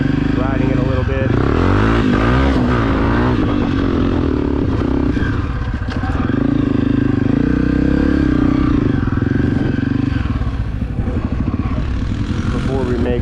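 A Honda CRF250F dirt bike engine runs loud and close, revving up and down with a rough, throaty rattle throughout, and a voice speaks over it at times.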